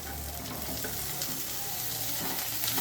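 Curry leaves and tomato sizzling in hot oil in a pan for a Tamil curry-leaf kuzhambu, a steady close frying crackle with light stirring throughout, no talk.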